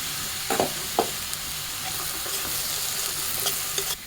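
Potatoes, beans, cabbage and cauliflower hit a hot pan of oil with chilli and fry with a steady close sizzle, with two sharp clatters near the start as the vegetables go in and light stirring scrapes after.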